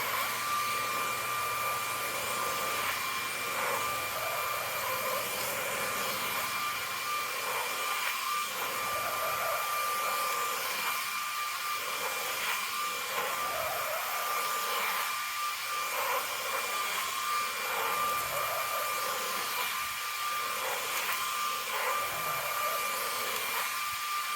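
A DreameTech T10 cordless vacuum with a crevice nozzle whirs steadily on stairs with a high motor whine, running continuously for the whole stretch with slight changes as the nozzle moves.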